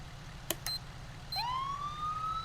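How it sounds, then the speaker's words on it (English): A police siren starts up close by: a couple of short electronic chirps, then a tone that rises steeply and holds a steady wail. "when I turn on my siren, it's going to cycle through these tones right here"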